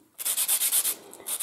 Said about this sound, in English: I've made a sanding block with a piece of wood, you know, and then some fine glass paper